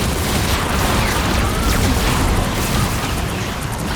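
Dense, continuous roar of game combat in Marvel Rivals with bombs bursting close and loud, layered booms and crackle with no clear gaps.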